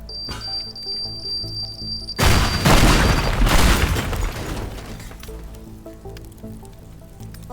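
A bomb explodes in the video game Teardown, a loud broadband boom that swells after a quieter stretch and rumbles for a second or two before fading into lingering debris noise.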